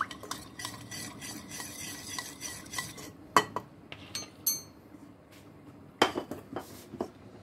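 Rice flour mixture stirred and crushed in a bowl for vegetable marich jhol, with steady scraping and clinking of a spoon against the bowl and a few sharper knocks, close and moderately loud, no talking.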